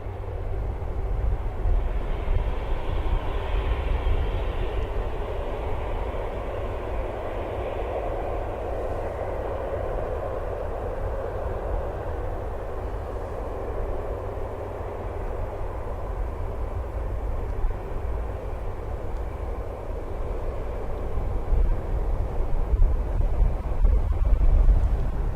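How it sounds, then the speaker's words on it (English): Aircraft taxiing at Manchester Airport, a steady low jet engine rumble with a faint whine that holds throughout and swells slightly toward the end, heard from a moderate distance with no voices. "while that's taxiing, right, and we're waiting for the next aircraft to taxi out"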